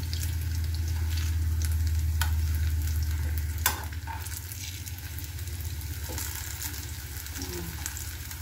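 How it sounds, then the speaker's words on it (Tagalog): Steady, crackling sizzle of a banana omelette frying in a pan, close and continuous, with an occasional clink of a utensil stirring. "tapos na tayo mag-prito"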